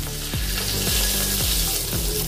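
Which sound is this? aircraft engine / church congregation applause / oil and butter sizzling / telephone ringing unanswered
oil and butter sizzling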